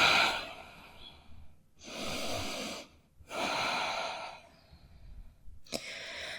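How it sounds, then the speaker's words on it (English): Heavy breaths from a yoga instructor land close on the microphone during a vinyasa session, with three long, rough exhales separated by pauses and a sharp quick sniff near the end. "it does catch a lot of my breath"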